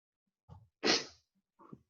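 A single sharp sneeze bursts out during a relaxed conversation, near and loud, framed by soft breathy sounds just before and after.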